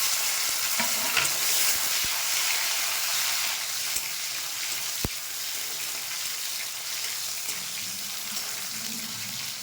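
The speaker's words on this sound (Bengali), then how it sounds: "পেঁয়াজটা ভাজা হয়ে গেছে, এখানে একটা টমেটো দিয়ে দিলাম।" Chopped tomato added to fried onion in a hot pan for an egg omelette curry, giving a loud, steady sizzle with a few sharp clicks and stirring scrapes, close by and without speech.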